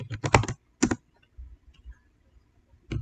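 Keystrokes on a computer keyboard while a command is entered, a few quick clustered clicks followed by softer scattered taps and a final burst, close and clear with no talking.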